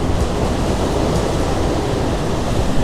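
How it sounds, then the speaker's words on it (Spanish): Waterfalls in a park in Palma, Mallorca, roar as a loud, steady broadband rush of falling water, close and unbroken throughout. "Miren qué guapo este parque con sus cascadas."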